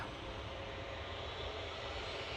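Steady broadband roar from the engines of a Ryanair Boeing 737-800 airliner lining up at Manchester Airport, an unbroken wash of noise with no voices.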